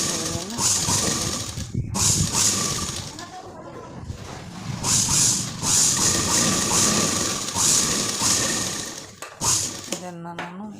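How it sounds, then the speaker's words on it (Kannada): A sewing machine stitches the back neck of a blouse with a steady, close mechanical whir that runs almost the whole time with brief pauses, while a voice talks over it. "ಈ ರೀತಿ ಹೊಲಿಗೆಯನ್ನು ಹಾಕ್ತಾ ಇದ್ದೀನಿ."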